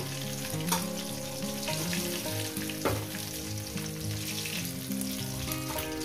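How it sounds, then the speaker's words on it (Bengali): Rohu fish pieces fry in hot oil, a continuous close sizzle and crackle with occasional sharper pops, heard alone without talk. "বাদ বাকি মাছগুলো সব একেবারে দিয়ে দিলাম। একেবারে ভেজে নিয়ে ফিরছি।"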